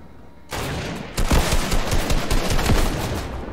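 Rapid gunfire from a shooter video game erupts as players fire at an enemy base, a loud, dense burst of overlapping shots that starts abruptly and keeps going to the end.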